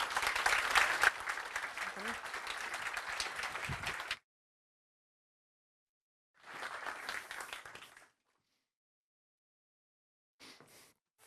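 An audience at a youth summit in Stockholm applauds speakers, a dense burst of clapping for about four seconds, then a gap, another short round and a brief final patter, moderately loud in a large hall.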